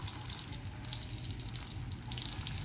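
Water sprays steadily onto a dog during a bath, a continuous soft hissing gush heard fairly quietly with no voices.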